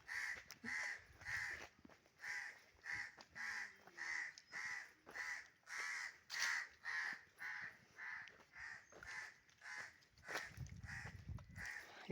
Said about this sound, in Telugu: కాకులు బాగా అరుస్తున్నాయి